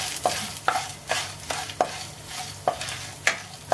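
Grated coconut for vazhaipoo pitla dry-roasts in a pan, heard as a series of close, evenly spaced scraping stirs, roughly two per second, over a faint low background with no voices.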